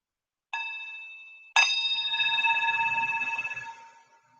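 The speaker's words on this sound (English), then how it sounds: "When you hear the next bell, use this bell to draw a few deep breaths in" A meditation bell rings out clearly twice, a lighter strike followed a second later by a fuller one whose bright tone lingers and slowly fades into silence.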